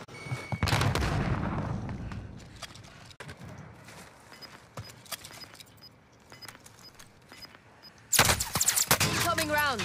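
Gunfire in a first-person shooter game with an MG34 machine gun, loud broadband bursts at the start and a heavy volley near the end, sparser shots and clatter between, with voices talking over it.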